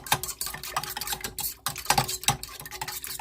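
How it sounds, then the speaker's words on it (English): A fork whisks cinnamon roll dough mixture around the bottom of a bowl, giving quick, irregular scraping clinks and taps that run continuously at close range with no voices. "I'm just going to take a fork for extra precaution, and I'm just going to give this a quick little mixing on the bottom."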